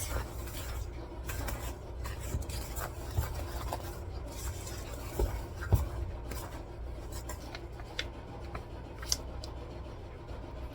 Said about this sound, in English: Now I'm going to give that a mix